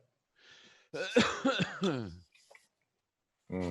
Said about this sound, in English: That cough did not sound good. Cough again.